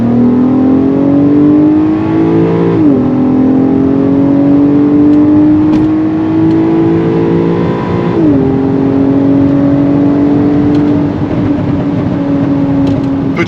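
A Volkswagen Golf 5 R32 engine revs and drones steadily with exhaust valves open, its pitch climbing and dropping sharply twice, with faint pops from the exhaust; no voices.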